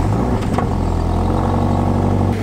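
A Subaru BRZ (Toyota 86 twin) engine runs steadily at idle, a loud, continuous low mechanical drone with slight fluctuations and no speech over it.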